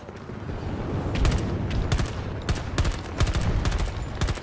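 Assault rifle fire in Battlefield 2042 on Xbox Series X comes in several sharp bursts and single shots over a constant rumble of battlefield noise, loud and close.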